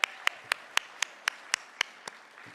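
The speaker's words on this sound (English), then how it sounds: "a big round of applause for all of our award winners" At a women's appreciation event, a single pair of hands claps slowly and evenly about ten times, each clap crisp and distinct against a quiet room, rather than a full crowd's applause.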